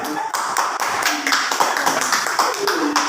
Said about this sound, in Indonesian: tepuk tangan untuk kelompok petani